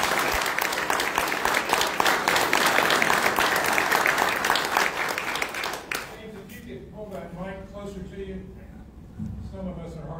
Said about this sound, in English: join me in another round of applause for our veterans that are here